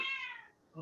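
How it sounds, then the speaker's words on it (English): A house cat gives one short, faint meow that trails off, followed by a brief soft sound near the end. "that's my cat"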